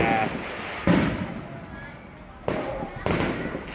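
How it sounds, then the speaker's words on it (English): Fireworks go off outdoors in the Philippines ahead of Christmas. Several sharp loud bangs, about four, are spaced across a few seconds, each followed by a rumbling decay. "So we do have some fireworks going off right now"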